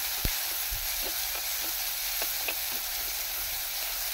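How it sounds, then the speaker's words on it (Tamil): Sliced onion and urad dal sauté in hot oil, giving a steady, even sizzle with a few faint clicks of stirring and no voices. "ஒரே ஒரு வெங்காயம் போட்டு வதக்கிக்கலாம்"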